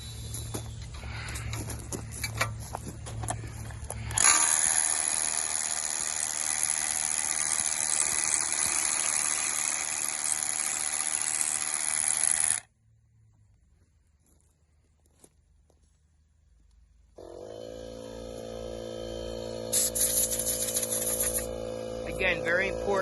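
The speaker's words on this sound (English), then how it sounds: "We can now go and drill all of the other holes." A harsh, steady drilling noise grinds into a concrete bulkhead for several seconds and then cuts off abruptly. After a near-silent pause, a humming machine starts up.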